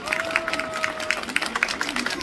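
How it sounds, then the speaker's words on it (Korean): An audience at the Buyeo Baekje Cultural Festival claps steadily, a dense patter of many hands, while a Korean-speaking voice and a faint tone carry over the applause. "주신 우리 심용환 소장님과 그리고 김원국 학예사님, 장동우 대표님께 다시 한번 따뜻한 박수 부탁드리겠습니다"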